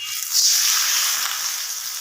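Water poured into a hot pan of fried koi fish, a bright hissing sizzle that flares up and then settles into a steady crackle, close and alone with no voices.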